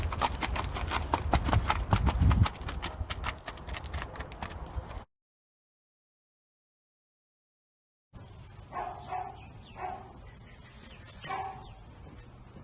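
Horse named Brody moving at a trot and walk, hooves clopping in a steady rhythm up close, the gait loud at first, then a gap of silence and softer, scattered hoofbeats.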